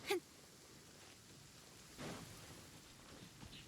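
Rain in Genshin Impact falls as a steady, soft hiss of downpour, with a sharp burst at the start and a brief swell of heavier rain partway through, no voices.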